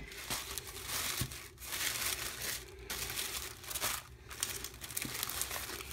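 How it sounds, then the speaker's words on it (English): Tissue paper unwrapped from an item in a mystery box, close and crisp crinkling and rustling in uneven bursts with brief pauses, with no voices over it. "wrapped in the tissue paper"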